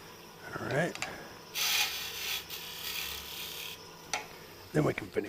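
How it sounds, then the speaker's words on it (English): Broad, hissing abrasive rubbing in sustained bursts against wood turning on a lathe, with a steady mechanical hum underneath and brief voice-like sounds at the start and end. "Then we can finish sanding it."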